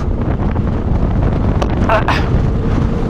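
Strong wind during Typhoon Tino blows over water in a mountainous, foggy area, raising waves. Loud, continuous buffeting rushes against the microphone, with a brief voice heard over the gusts.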